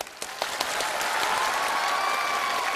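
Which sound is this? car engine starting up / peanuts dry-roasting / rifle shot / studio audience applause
studio audience applause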